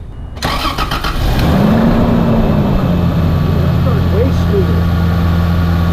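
A Toyota FZJ-80 Land Cruiser engine cranks and starts after a tune-up, then settles into a steady, loud, close idle.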